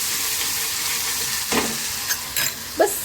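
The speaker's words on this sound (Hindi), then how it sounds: "इसे अच्छी तरह से मिक्स कर लेंगे।" Green chili chutney goes into a sizzling pan and is stirred in, a loud continuous frying hiss broken by a few scraping spoon strokes near the end, with no voices.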